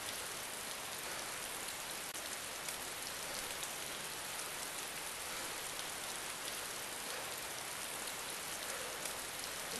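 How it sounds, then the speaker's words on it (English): Rain falls in the video game DayZ as a steady, faint, even hiss of drops on surfaces, continuous throughout with no voices. "recording with this rain is kicking my butt"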